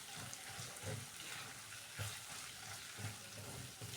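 Capsicum (shimla mirch) sabzi stirred in a pan, a steady soft sizzle broken by scraping strokes about once a second, close and alone.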